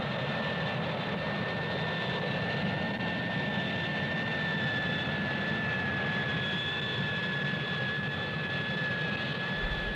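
Harrier jump jet engines give off a steady, sustained jet roar with a thin high whine on top, constant in level and distant rather than close.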